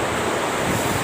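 Gusty wind following two days of rain buffets the microphone with a constant, close, heavy roar and no voices.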